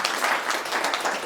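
Short burst of dense audience applause at a talk honouring a maker of an oak wheel, many hands clapping steadily and fairly loud, no speech over it.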